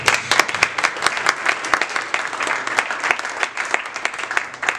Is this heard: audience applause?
yes